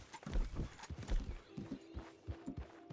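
A horse ridden in Red Dead Redemption 2 Online gives close, fairly loud hoof beats, a brisk uneven clip-clop over the full moment with a low tonal hum underneath.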